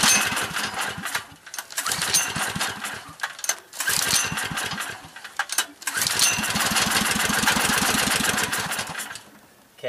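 A small generator engine fed on wood stove smoke sputters and fires up in uneven bursts, rapid pulsing chugs that catch, falter and pick up again close to the microphone.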